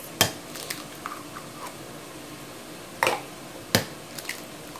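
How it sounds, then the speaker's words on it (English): Two eggs cracked for Italian stuffed shells: a few sharp close taps and cracks spaced over a few seconds, with small wet clicks between, no talking. "So now I'm going to crack in 2 eggs"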